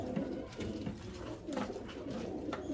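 Teddy pigeons being offered for sale in Sialkot coo softly and repeatedly at close range in a low, throaty rhythm over faint background noise.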